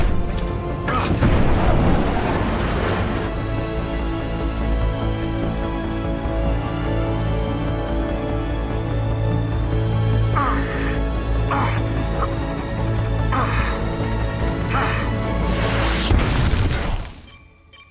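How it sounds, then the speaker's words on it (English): Bombs dropping and exploding in a game: a steady loud rumble of blasts and crashing debris that runs throughout, with a few sharper impacts and a final burst before it cuts off. "Bombs away."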